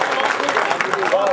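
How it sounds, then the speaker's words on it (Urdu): Audience applause at an All India Mushaira poetry gathering in Adawad, a dense burst of clapping from the crowd filling the room, steady and fairly loud throughout. "زوردار تالیوں میں استقبال"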